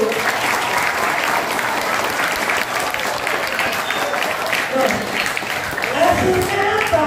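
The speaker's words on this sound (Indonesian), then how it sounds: "Tepuk tangan dulu." Audience gives a loud, sustained round of applause for students of a Muhammadiyah modern pesantren, dense clapping from a crowd lasting several seconds, with a voice speaking over it near the end.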